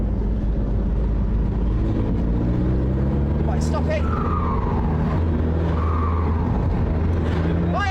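A diesel car bought for £1,000 rumbles with a deep, steady engine drone close by, pitch rising and falling as it revs, with a voice speaking briefly over it.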